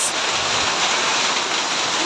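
Hail pelts down on San Carlos, Pangasinan, as a dense, loud, continuous hiss and patter of falling ice and rain that is steady and unbroken throughout.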